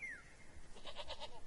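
Goats herded in the mountains of Kurdistan bleat faintly in a quick series of wavering calls from some distance, quiet and unaccompanied by speech, after a brief high whistle-like note.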